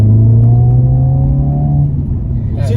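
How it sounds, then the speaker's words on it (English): A 1.6-litre car engine in crazy mode revs up under acceleration, a loud, steady droning growl that rises and then eases off, with a brief voice near the end. "That is actual engine sound."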